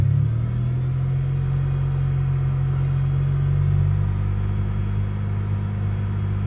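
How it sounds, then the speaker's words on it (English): A Toyota Celica's 1MZ-FE V6 engine held steady at about 2000 RPM, a loud, even low rumble with a constant drone, close up and alone with no voices. "I'm gonna adjust that and get it to land at 2000 RPM while I'm holding the gas"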